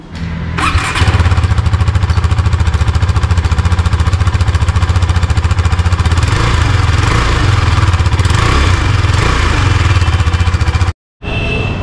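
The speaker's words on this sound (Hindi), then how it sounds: "आप लोग सुनिए इसका एग्जॉस्ट नोट।" A 2022 KTM RC 390 MotoGP Edition motorcycle idles loudly and up close, its exhaust note steady and throbbing with a couple of rev changes, then cutting out abruptly near the end.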